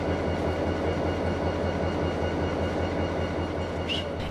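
A DSB class ME diesel locomotive hauls a farewell train, a steady, loud rolling rumble of engine and wheels on rail that holds unbroken from start to end.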